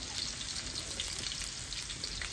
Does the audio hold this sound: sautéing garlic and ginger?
yes